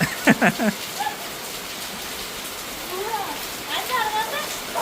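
Steady rain hisses down across a surface in an even wash, with a few short bursts of speech near the start and end.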